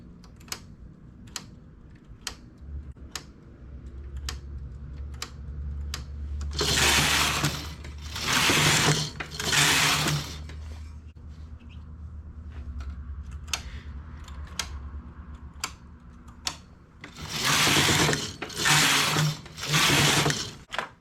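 A knitting machine works a slip stitch sample by hand, its carriage making two long rasping sweeps across the bed, with regular light ticks and clicks in between.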